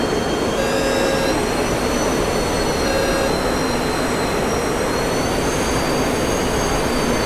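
F-4 Phantom jet engine flying fast and low in a flight game, a loud, constant roar with a high steady whine over it and no break.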